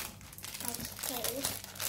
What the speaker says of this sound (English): Okay, so let's open my nice rainbow puppet toy. That's a square. Cut it open.